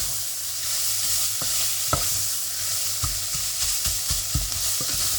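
Taco fries topping cooking in a pan on high heat with tomato puree stirred through, a dense continuous sizzle with periodic knocks and scrapes of the spoon against the pan, close up and without any voices.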